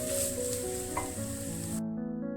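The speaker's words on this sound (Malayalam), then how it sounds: "1 ടേബിൾ സ്പൂൺ മല്ലി, 1/2 കപ്പ് തേങ്ങ. നന്നായിട്ട് മൂക്കുന്നിടം വരെ നമുക്ക് ഇളക്കി കൊടുക്കാം." Coriander seeds and grated coconut frying in a pan for a non-veg sambar, a close, continuous bright sizzle with stirring that cuts off abruptly near the end.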